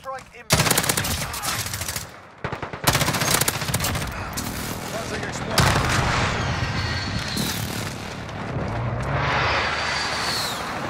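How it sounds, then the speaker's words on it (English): Rapid machine-gun bursts and booming airstrike impacts rattle through a Modern Warfare match, loud overlapping gunfire followed by heavy rolling explosions and lingering rumble, with faint voices. "Be advised, friendly precision airstrike in."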